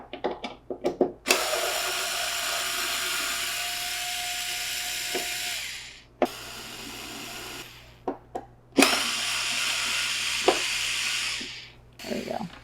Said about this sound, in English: So you want to take your screwdriver and we are going to remove these 6